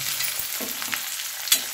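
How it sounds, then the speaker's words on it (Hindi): Chopped onions and green chillies sizzle in a pan with a steady frying hiss, a few soft stirring scrapes and a sharper clink near the end, close up with no talking. "कटे हुए प्याज, हरी मिर्ची ऐड कर देंगे। प्याज को हल्का ब्राउन होने तक पकाएंगे।"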